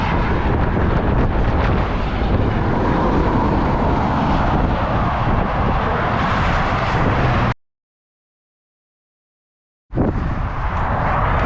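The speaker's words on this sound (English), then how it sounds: "the wind is so strong, I'm having to walk" Strong wind buffets the microphone beside a federal highway near Canberra, a loud continuous roar that cuts to silence for about two seconds before returning.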